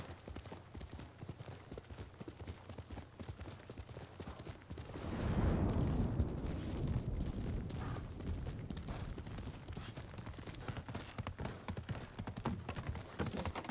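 Rapid, irregular horse hoof clops in the video game Ghost of Tsushima patter continuously, growing denser and louder midway as a rumbling gallop builds, with faint background ambience and no clear talk.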